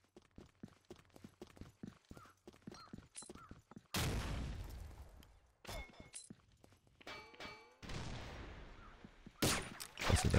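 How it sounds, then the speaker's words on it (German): Weapons fire in the shooter game Combat Arms on the Road Kill map in elimination mode: a run of quick mechanical clicks and clanks, then several loud broadband bursts of gunfire with ringing tails, growing heavier toward the end. "Mal richtig schön durchschießen"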